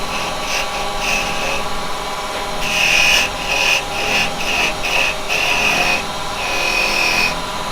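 A carbide woodturning tool cuts a spinning piece of wood on a lathe for detail work, giving a steady motor hum broken by bursts of scraping, rasping contact.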